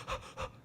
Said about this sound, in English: Just panting